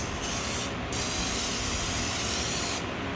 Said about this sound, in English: let's see how these are as sprayers